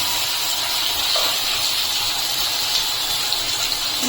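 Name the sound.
chopped onion and garlic frying in oil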